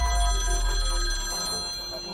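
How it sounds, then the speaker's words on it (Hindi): A telephone bell rings at a police station in the early morning, a bright, sustained metallic trill lasting about two seconds, loud and alone. "तभी फोन की घंटी बजी।"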